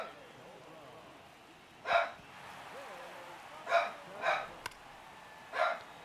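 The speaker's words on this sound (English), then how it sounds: "I'm sure you guys can hear my dog." A dog indoors gives four short, separate barks spread across several seconds, moderately close, over quiet room tone.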